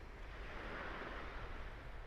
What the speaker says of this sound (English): I hope we're getting the sound of the waves crashing